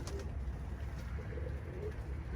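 Pigeons coo softly in a steady low murmur, with faint outdoor background sound and no talk.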